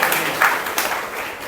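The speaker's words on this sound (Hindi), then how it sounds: "ताली बजा के प्रभु को धन्यवाद" A church congregation applauds together, a brief, loud wash of clapping that fades after a second or so.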